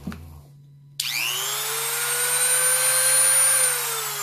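A third-generation Dremel Moto-Tool rotary tool switches on after a moment of quiet and spins up to a high 35,000 RPM, holding a loud, close, steady high-pitched whine and buzz for several seconds with no talk.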